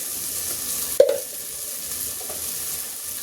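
Spices with salt and cumin powder sautéed in a pan for mung dal with jute leaves, giving a steady hissing sizzle with one sharp clack of a spoon early on, close and even.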